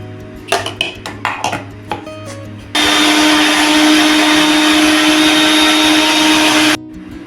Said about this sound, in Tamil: இதுலேயும் லைட்டாக தண்ணி ஊற்றி பேஸ்ட்டாக அரைச்சி எடுத்து வந்துடலாம்.